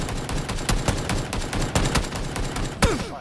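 AK-47 gunfire in a video game, a rapid, dense fusillade of loud shots with overlapping bursts and a sharp crack near the end.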